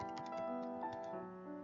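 Keys on a computer keyboard are tapped in a quick light burst while a web address is typed, soft clicks close by over a faint steady background tone.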